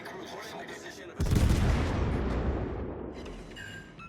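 Naval guns fire in the World of Warships Legends video game, opening with a sudden loud blast that rolls into a sustained, rumbling barrage, with faint background game sounds before it.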